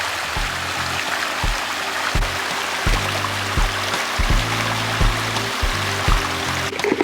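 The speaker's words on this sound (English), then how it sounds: "I love the sounds of the water." A stream flows steadily on a spring nature walk, giving a continuous watery rush with a low, pulsing tonal hum running beneath it throughout.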